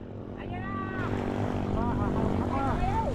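A small motorboat engine hums steadily at sea, with a faint whine over a low drone, while people talk nearby; the motor is running before it stalls.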